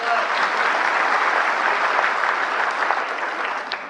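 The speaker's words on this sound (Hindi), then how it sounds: "ये तालियां जो हैं" An indoor audience at a training session on CSC Aadhaar card updates claps steadily for about four seconds, a dense, even burst of applause that tapers slightly at the end.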